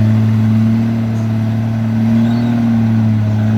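A HIDROMEK HMK220LC-2 excavator works on soft ground, its engine holding a loud, steady low hum with slight swells in load, close by and running without pause.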